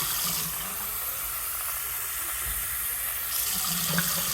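Cold water runs steadily from a kitchen tap into a measuring vessel while grits are being prepared, a continuous close hiss and splash lasting a few seconds, with no talking.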